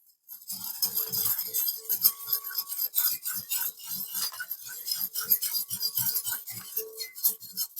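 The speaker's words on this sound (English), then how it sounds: "So we're going to use a whisk." A whisk scraping and rasping through flour and salt in a bowl, a busy run of close, rhythmic strokes with occasional metallic clinks against the sides.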